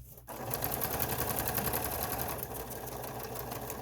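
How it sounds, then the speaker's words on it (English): A sewing machine top stitches a blue fabric mask, running with a fast, steady mechanical whir and rapid needle chatter after a brief quiet start. "So now I'm top stitching."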